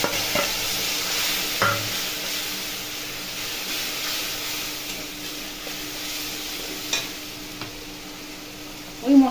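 Spice paste for chhanar dalna sizzles and fries in hot oil seasoned with bay leaf, cinnamon and cardamom, a steady close hiss with a few stirring scrapes and small pops, no voices.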